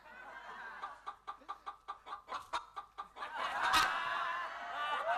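A voice imitates a chicken's clucking, giving a dozen rapid rhythmic clucks, then breaks into a louder, breathy laugh-like outburst, on an Indonesian TV comedy show.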